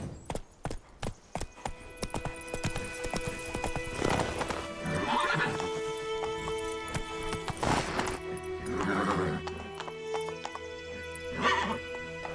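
In The Witcher 3 on PlayStation 5, the horse Roach gallops with rapid hoofbeats at first, then lets out several loud, drawn-out neighs and whinnies amid game sounds.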